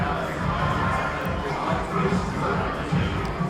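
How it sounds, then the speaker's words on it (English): A live event crowd chatters and calls out in a steady, dense wash of voices, with occasional shouts and cheers rising above the general murmur. "there's a wonderful crowd behind us"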